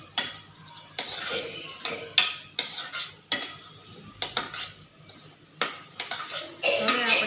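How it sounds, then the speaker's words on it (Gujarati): A spoon mixing cardamom powder into sheera in a pan, repeated scraping and clinking strokes in an uneven rhythm with brief pauses, close and fairly loud over a faint sizzle. "ઇલાયચી પાવડર ઉમેરી એકસાથે મિક્સ કરી લઈશું."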